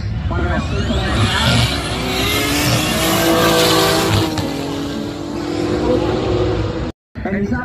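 A twin-turbo race car running 40 psi of boost on a track, roaring loudly and continuously with tire squeal mixed in, while a commentator talks over it before a brief dropout near the end.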